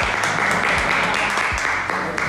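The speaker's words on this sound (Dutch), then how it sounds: "Ja, applaus voor alle mensen." Applause for supermarket volunteers rises as a continuous crackling wash of many clapping hands, fairly loud and steady, with a voice heard speaking over it.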